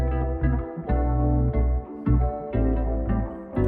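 Short song-starter music loop built around bright, high-end guitar, a steady rhythmic pattern with regular strums and accents repeating about every half second, full and upfront with no voices.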